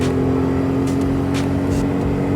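A Kawasaki 125z motorcycle engine held at high revs while riding, a loud steady drone with a strong constant hum and brief bursts of wind noise, without any talking.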